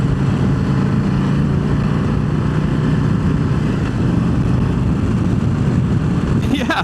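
A 2025 Harley-Davidson Heritage Classic cruiser riding along, its engine giving a steady loud rumble with heavy wind noise throughout.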